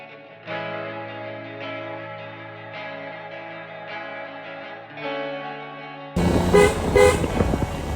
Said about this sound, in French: on est obligé de klaxonner pour prévenir de notre arrivée